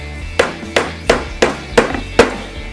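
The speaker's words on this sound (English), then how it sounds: "I am gonna start out the old-fashioned way. Hammer nails." A hammer drives nails into wood for a birdhouse with six sharp, evenly spaced strikes, each ringing briefly, close and loud with no talking.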